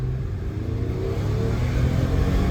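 A 2009 Lexus RX 350 with the timing-chain engine and nearly a quarter million miles accelerates in a continuous, rising engine rumble heard from inside the cabin, steady and moderately loud with no talk.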